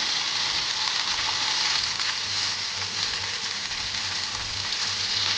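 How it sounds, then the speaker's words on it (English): Cream poured into a hot pan for fettuccine Alfredo sauce hisses in a steady, close frying sizzle that holds evenly from start to finish, with faint stirring underneath and no talking. "Now I am going to add 1 cup of cream"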